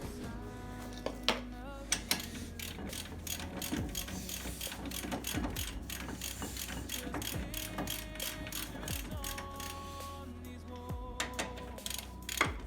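A ratchet wrench clicks in quick bursts while tightening a wheel hub bolt on a Mazda RX8 during a front bearing and hub replacement. Rapid pawl ticks come in short runs with brief pauses and metallic clanks, close and fairly quiet.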